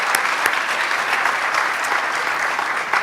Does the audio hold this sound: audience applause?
yes